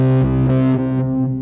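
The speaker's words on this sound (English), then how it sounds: "add some reverb on that one, add some delay on that" An Omnisphere synth tone with reverb and delay added plays as a sustained, distorted chord with shifting layers, loud and close, with no voice.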